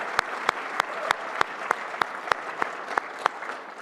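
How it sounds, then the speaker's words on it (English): Audience applause for an entrepreneur at a Toronto budget event, heard as a steady, even patter of clapping at moderate distance with regular louder claps standing out. "big round of applause."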